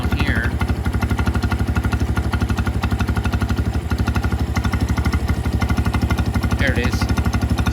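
Venom X20 125cc motorcycle idling up close, a loud, steady, rapid single-cylinder putter that stays even throughout, with brief voice sounds at the start and near the end.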